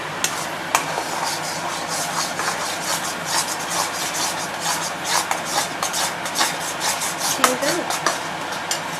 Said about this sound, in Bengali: এই স্পিডে কন্টিনিউয়াসলি নাড়তে হবে যাতে এটা খুব তাড়াতাড়ি কড়াইশুঁটি, আদা এগুলো খুব তাড়াতাড়ি ধরে যায়।